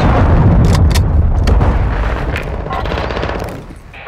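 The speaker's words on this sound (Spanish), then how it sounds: "Lanzando una granada" Game combat from Call of Duty Modern Warfare 2: a grenade blast and rattling gunfire fill the scene loudly at first, bursts of automatic fire and booms crowding together, then thinning and fading toward the end.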